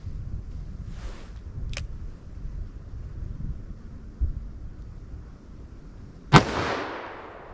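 A single .44 Magnum Model 69 revolver with a 4 1/4 inch barrel fires a 240 grain hard cast load outdoors, one sharp loud report followed by a decaying echo, with a few faint clicks before it.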